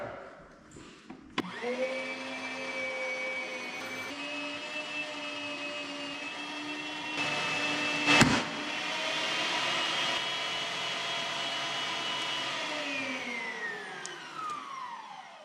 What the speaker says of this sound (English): We've had a catastrophic failure of our grinder blade.